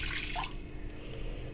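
Water poured from a bowl into a pan while making a sweet ragi flour adai, a short steady splashing stream close by with no talk.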